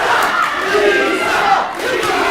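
A wrestling show crowd roars and shouts in a loud, sustained wall of voices, a battle-cry-like din that swells and holds throughout with no clear individual words.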